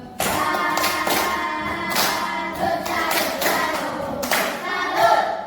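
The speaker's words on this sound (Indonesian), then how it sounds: "Tepuk salut." Children in a classroom perform a rhythmic salute clap, several bursts of group clapping in a patterned beat, loud and close, with no talk over it.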